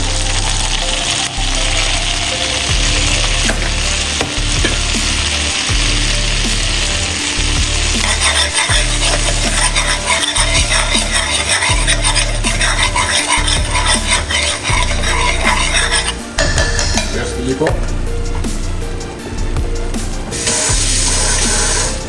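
Curry powder frying in a hot pan for rasta pasta makes a loud, steady sizzle, with a rhythmic scraping and stirring sound repeating throughout.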